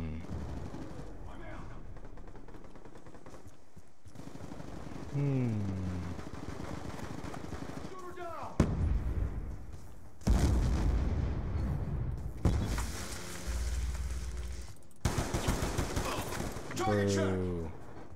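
Rapid bursts of AN-94 assault rifle fire in a first-person shooter game, several loud volleys with brief gaps, mixed with booming impacts and a voice talking over parts of the action.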